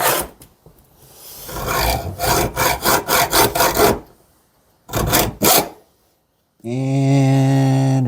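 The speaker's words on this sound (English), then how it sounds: "So I've made me a cut in the tubing." A saw cutting through copper tubing, rasping in rhythmic bursts of back-and-forth strokes, pausing and then resuming in a short run of strokes, before a steadier tonal grinding near the end.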